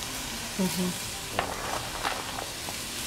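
Onion for shrimp gumbo frying in a pan, a steady close sizzle with a few scraping stirs and light clinks throughout.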